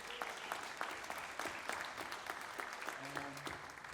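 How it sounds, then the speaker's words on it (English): Modest applause from the audience at a college jazz ensemble's spring concert, heard as scattered, uneven claps at a distance, with a brief tonal hum near the end. "give him a round of applause"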